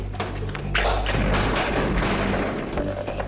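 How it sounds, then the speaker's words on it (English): A Hydronoa hydraulic breaching tool bursts a locked door open with heavy thuds and a loud cracking impact, followed by knocking and rattling, with no voices. "the Hydronoa can apply up to 5 tons of pressure to burst the door"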